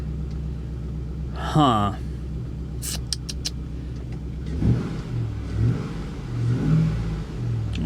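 Chevy SSR sold as a non-runner at a Copart salvage yard, its engine idling with a low steady rumble and a few rising revs, close by, while a man reacts briefly over it.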